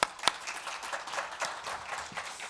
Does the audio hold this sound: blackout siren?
no